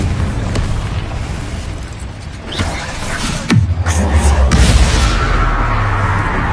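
A Confringo fire spell blasting in a Hogwarts video game: a loud booming explosion with a deep, rumbling tail, set among other spell effects and a brief voice.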